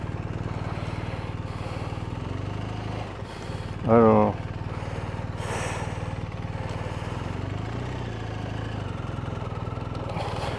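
A warmed-up BMW R1250RS motorcycle engine idles steadily with a low, throbbing rumble, and someone speaks briefly over it.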